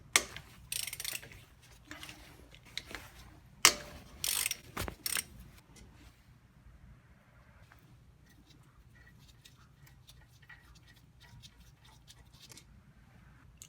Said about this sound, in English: Take off the two 14 millimeter bolts to remove the caliper.